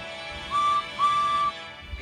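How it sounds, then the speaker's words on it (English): Steam engine whistle sounding twice as a train approaches a station, a short steady tone followed by a longer one, clear and fairly near over a low rumbling background. "Then Gordon whistled as he approached the station."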